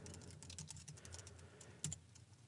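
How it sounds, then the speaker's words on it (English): A credit card number typed on a computer keyboard while entering records in Access 2013: a quiet, steady stream of rapid keystrokes with one sharper key press near the end, no voice. "Now we're going to type in another credit card for Dante."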